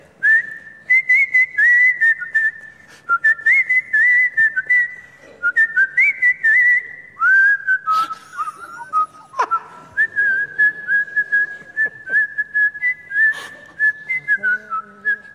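A tune whistled on a record, a clear, bright melody of sustained and sliding notes with short pauses between phrases, heard alone.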